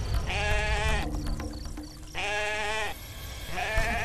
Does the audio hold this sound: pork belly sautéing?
no